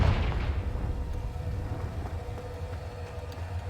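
A Confringo fire spell bursts in Hogwarts Legacy, a loud booming blast with a deep rumbling low end that decays into a sustained roar, standing alone without voices.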